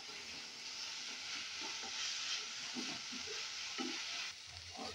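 Frying in a pan while preparing a brinjal gojju, a soft, steady sizzle with occasional knocks and scrapes of stirring, fairly quiet and close, no voices.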